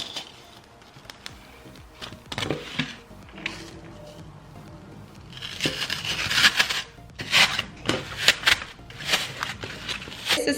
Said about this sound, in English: take the clear bowl and hot glue down these styrofoam directly to the bowl